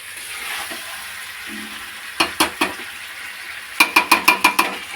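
A meat curry is being stir-fried in a pan on a gas stove, with quiet background sizzle broken by sharp clusters of metal spatula clangs against the pan, first three strikes and then a faster burst of about six.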